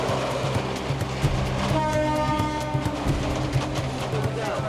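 A passenger train in Bangladesh rumbles steadily with rhythmic clatter of wheels on rails, and a long horn blast sounds midway, loud and close throughout.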